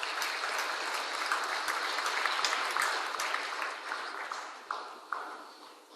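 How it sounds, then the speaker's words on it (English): Audience at a multicultural charity appeal launch applauds steadily, a moderately distant wash of clapping that thins out toward the end. "Give him a warm round of applause."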